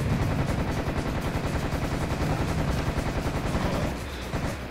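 Rapid bursts of Thompson submachine gun fire in a video game, loud and near, rattling almost continuously for about four seconds before easing into a quieter tail.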